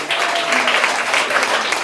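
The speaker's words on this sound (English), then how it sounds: "Give yourselves a round of applause for coming out and supporting such a great cause." Steady crowd applause at a comedy show for a cancer benefit, dense clapping holding at an even, loud level throughout.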